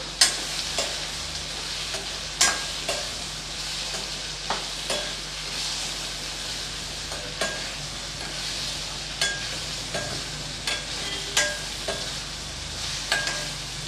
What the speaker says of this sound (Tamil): இந்த எண்ணெயிலே இது வந்து நல்லா நல்லா கிறிஸ்பியாக நல்லா மொறு மொறுன்னு வர்ற அளவுக்கு நம்ம நல்லா வேக விட்டுறலாம்